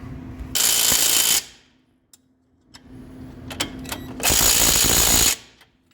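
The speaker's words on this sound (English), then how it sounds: "When your Ryobi tool stops torquing, that's probably torque spec" A Ryobi power tool drives the strut bolts tight during a front strut replacement on a 2017–2019 Chevrolet Volt. Two loud, close bursts of about a second each are separated by quiet clinks, with no talking.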